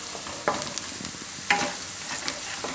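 Spices (coriander-cumin powder, salt and red chili powder) are stirred in a hot pan for a Gujarati spinach and gram flour dish, with a soft sizzle and a few scraping spoon strokes close by.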